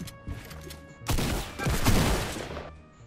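Gunfire in a video game on a cube island erupts as a loud burst of rapid overlapping shots lasting about a second and a half, then trails off into quieter game ambience.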